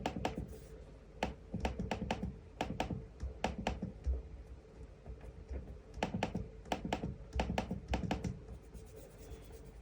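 Plastic trackpad on a 2022 Lenovo Legion 5i Pro laptop clicked repeatedly up close, quiet sharp clicks in quick bursts with short pauses between, even and free of rattle, no talking.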